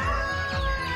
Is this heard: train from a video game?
no